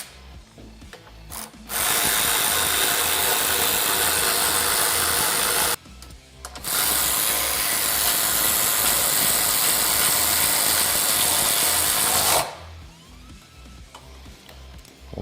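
A ratchet drives 10mm bolts on a front bumper install on a Kawasaki Teryx KRX, giving two long bursts of steady, loud mechanical clicking with brief pauses and quieter handling sounds between them.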